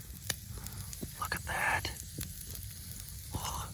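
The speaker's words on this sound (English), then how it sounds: "I hear sizzles" Meat sizzles in a pan at a backcountry campsite in Utah, a steady soft crackle with scattered sharp pops and a brief louder hiss midway, fairly faint and close.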